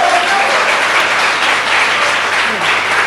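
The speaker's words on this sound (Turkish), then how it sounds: "Çocuklar çok alkışlıyorsunuz" A studio audience at a televised religious debate show applauds loudly and steadily, a dense wash of clapping lasting a few seconds without pause.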